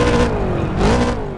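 A McLaren 720s engine revs in the racing game CSR Racing 2, a loud, steady synthesized roar that dips and climbs again in pitch over a brief burst, with no talking.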